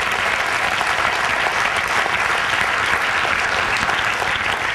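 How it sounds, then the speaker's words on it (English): An audience gives a TEDx speaker a round of applause, a dense, even roar of clapping that holds steady throughout. "Let's give her a round of applause"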